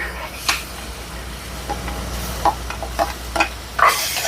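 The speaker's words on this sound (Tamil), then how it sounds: "தக்காளி பழம் கொஞ்சம் வதங்கட்டுக்கும்" Tomatoes with crushed ginger-garlic sauté in a pan for chicken kottu roti, a low sizzle punctuated by several sharp spoon clicks and scrapes against the pan.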